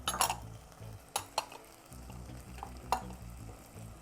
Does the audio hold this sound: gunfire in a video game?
no